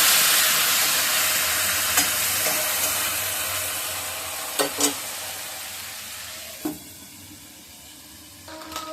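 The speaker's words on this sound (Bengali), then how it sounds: "এবার দেখুন এদিকে মাছের মাথাটা ভাজা হয়ে গেছে।" A fish head fries in a hot pan in a home kitchen, giving a steady loud sizzle throughout with a few sharper spits and pops toward the end; no talking.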